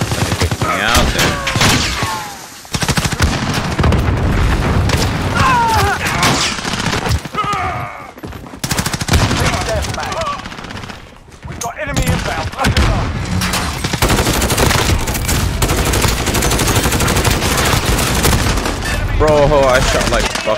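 Dense, near-continuous gunfire from Modern Warfare PC multiplayer, with rapid automatic bursts and sharp shots layered over one another for the full stretch, loud and close, and voices talking under the shooting.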